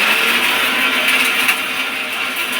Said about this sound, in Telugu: అన్నీ మిక్సీలో వేసి పొడి చేసి కర్రీ చేద్దాం